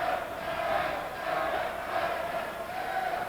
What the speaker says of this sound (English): Numerous Canadian supporters waving the Canadian flag and cheering, "Let's go Canada."